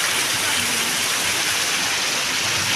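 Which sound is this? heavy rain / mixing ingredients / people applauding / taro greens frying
heavy rain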